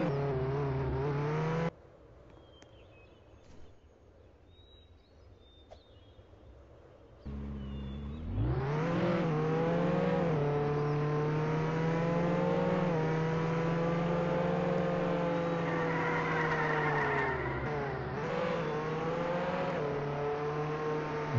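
A car in the Roblox Jailbreak video game revs and whines through a long, loud engine tone that rises and shifts while drifting, after a quieter stretch of scattered game noises, with no talking.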